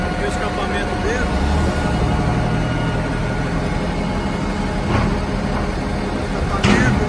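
Exhaust of a natural-gas concrete truck gives a steady low rumble, close by and continuous, with a person talking over it and a few brief sharp sounds.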